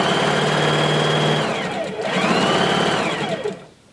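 Sewing machine stitching a skirt seam: a loud, close, steady motor whir with rapid needle chatter, slowing and pausing briefly, then a short reverse run for a back stitch before stopping.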